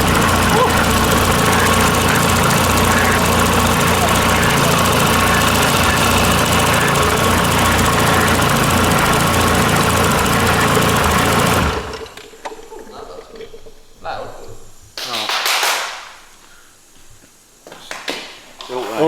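A rebuilt car engine idles loudly and steadily with a whining alternator, a dense continuous roar for about twelve seconds that then cuts off, leaving quieter clanks and bursts of handling noise.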